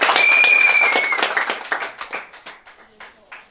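A crowd at a customary wedding ceremony applauds steadily, the clapping thinning out into scattered individual claps toward the end.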